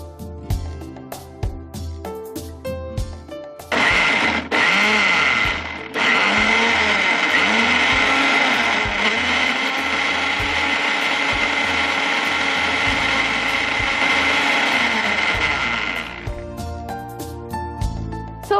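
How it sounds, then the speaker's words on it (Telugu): A kitchen mixer grinder blends boiled, salted chutney, its motor whirring loud and steady for about twelve seconds between short starts and stops amid clattering, with no talk. "మిక్సీ వేసేసాం కదండి, ఇప్పుడు బాగా మిక్స్ అయిపోయింది."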